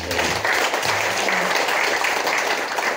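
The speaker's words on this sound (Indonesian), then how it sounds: "tepuk tangan untuk kita semuanya" Applause from an audience at a master of ceremony workshop held by a mosque council in Pesanggrahan, Jakarta, a steady wash of clapping filling the whole three seconds at close range with no voices.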